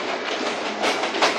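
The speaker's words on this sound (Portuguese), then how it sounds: "o trem, é o trem, é o trem das 7 horas, galera" A train ride rolls past at the Expoagro agricultural fair in Manaus, a loud, close, steady rumbling clatter that swells near the end, with no talking.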